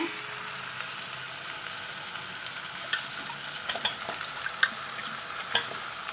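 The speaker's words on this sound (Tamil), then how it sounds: "இந்த நேரத்தில் நம்ம இதில் வெட்டி வச்சுருக்க இந்த சிக்கனை ஆட் பண்ணுறோம்" Cut chicken pieces for spicy chicken perattal fry in a pan with a steady, even sizzle, broken by small pops and occasional stirring scrapes, no talking.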